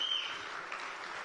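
Brief, faint wash of audience clapping during a sports talk show discussing Brazilian refereeing, steady and distant with no voices over it.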